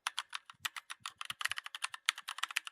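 Rapid clicking of a computer keyboard as a command is typed into the Windows 11 command line, irregular bursts of close keystrokes with short pauses between them.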